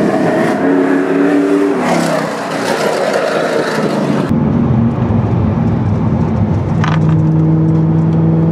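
Race car charging through a hairpin corner on the Mt Lemmon road, its engine roaring loudly and close with a sustained, shifting drone that changes pitch partway as it works through the bend.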